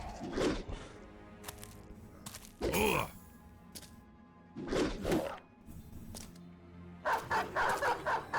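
A dog in the Battle Brothers video game barks in about four loud, separate bursts spread over several seconds, with quieter game sounds in between.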